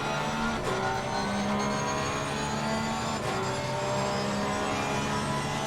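Porsche race car engines roar past on the Bathurst straight in a sim racing game, a steady loud drone with rising pitch shifts, no talking.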